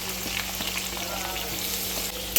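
Long-sliced onions frying in hot oil in a pan: a steady, dense, close sizzle that hisses evenly from start to finish with no voices over it.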